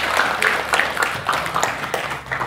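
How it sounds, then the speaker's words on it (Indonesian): Audience at a junior high school quiz competition in Blitar, Indonesia, applauding in the morning: a dense, continuous patter of many hands clapping at a moderate level, with a few louder individual claps standing out. "Boleh Bapak Ibu sekalian beri tepuk tangan yang meriah pada pagi hari ini."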